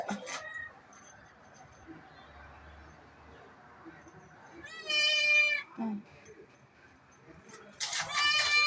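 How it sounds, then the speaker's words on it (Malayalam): A kitten meows in short bursts against a quiet indoor background, with a first cry at the start, a longer wavering meow in the middle and another near the end. "ഈ പൂച്ചക്കുഞ്ഞിൻ്റെ ഉദ്ദേശം എന്തുവാ എനിക്ക് മനസ്സിലാവുന്നില്ല"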